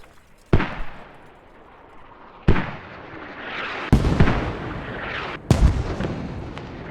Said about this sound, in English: Mortars up for TLC.